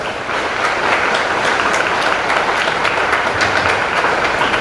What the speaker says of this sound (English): express your gratitude to your principal, teachers and all the staff in the school by giving a big round of applause